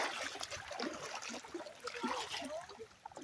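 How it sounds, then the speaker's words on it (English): Feet wade through lake water, sloshing and trickling in uneven splashes that run close and fairly soft for a few seconds. "just gonna walk in the water at this point."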